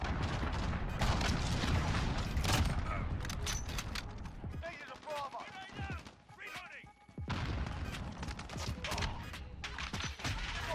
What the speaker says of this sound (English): that was an SMG across the map